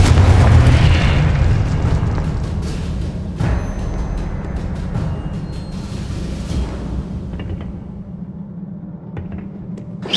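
Repeated Confringo blasting-spell explosions in Hogwarts Legacy combat, a heavy booming roar with scattered sharp cracks and bursts layered over a continuous rumbling bed, loud and close throughout without talk.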